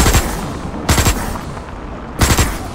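Gunfire in the video game Osiris: New Dawn: three loud, close bursts of short rapid shots, spaced about a second apart, each with a brief ringing tail.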